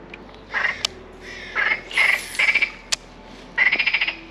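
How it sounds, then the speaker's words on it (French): Outdoors while pike fishing, a frog croaks in rasping bursts, with crows cawing among them. The calls end in a quick pulsed series, with no talking. "Ah puis la grenouille qui est fin folle"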